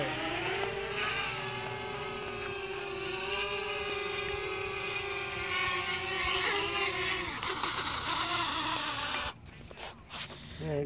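A Blade 200QX quadcopter performs a slow flip, its rotors giving a steady high buzzing whine with shifting pitch as the throttle changes, loud and close, before cutting out abruptly near the end.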